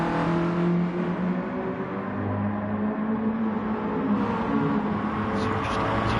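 A Mazda touring car races a lap in a sim racing game, its engine droning steadily and close, with pitch shifts as it accelerates and changes gear.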